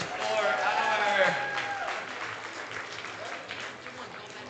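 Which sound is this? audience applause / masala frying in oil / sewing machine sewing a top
audience applause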